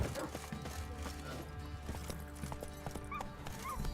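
Horse hooves clip-clop in The Witcher 3 video game, a quiet steady trot of repeated hoof strikes amid soft game ambience.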